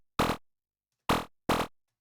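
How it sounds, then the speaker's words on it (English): Three short FM bursts from a Serum synthesizer shaped by a volume envelope, each a loud buzzy hit that snaps on and quickly fades, the last two close together, with silence between. "we can create like a little burst of FM"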